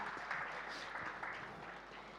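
Steady crowd applause from an audience at a movie pre-release event for the Telugu film Transfer Trimurthulu, a dense continuous patter of clapping held evenly throughout.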